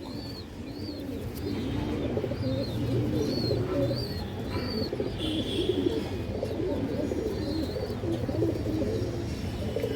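Muslodom pigeons coo in repeated soft, rolling calls close by, several birds overlapping against a low steady background hum, with no talking.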